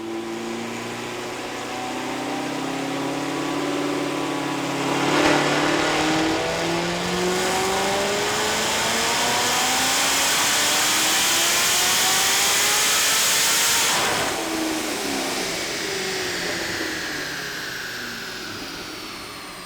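A 1000hp ProCharged C7 Corvette engine on a dyno, running on pump gas, roars through a long sustained pull, its pitch climbing steadily with supercharger whine to a peak before backing off, loud and close with no voices.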